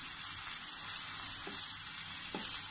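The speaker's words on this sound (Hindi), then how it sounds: "पहले जिंजर, ठीक है, थोड़ा सा सौते साथ हो जाए, 1 टेबलस्पून जिंजर क्रश्ड" Crushed ginger sautés in a pan for dhaba-style dal mash, a soft, even hiss of frying with a couple of faint clicks from stirring, and no voices.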